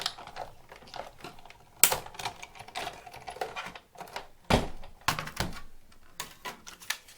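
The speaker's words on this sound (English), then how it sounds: "Run that through my Big Shot." Sheet of scrap cardstock cranked through a Big Shot die-cutting machine with a small Deco label thinlit, giving quiet, close clicking and ratcheting with a few sharper knocks, no talking.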